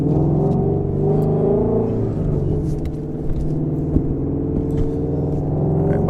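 A Ford Mustang GT350 accelerates onto a slick highway, its V8 holding a deep, loud, steady rumble from inside the cabin with a few small knocks.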